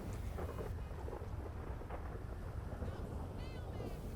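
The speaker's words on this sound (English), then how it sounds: "Put in the code again and you will get thundery weather." Thunderstorm weather in the GTA 5 video game: a low, continuous roll of thunder rumbles under steady falling rain, fairly faint, with a faint voice in the background.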